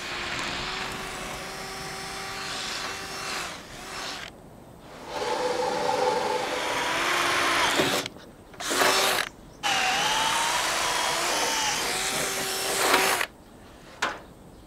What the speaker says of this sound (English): Now I'm using a 16 mil speed bore bit.